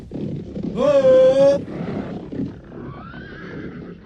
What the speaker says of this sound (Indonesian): terdengar suara derap kaki kuda dari arah lain mendekat